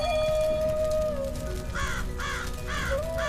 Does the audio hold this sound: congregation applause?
no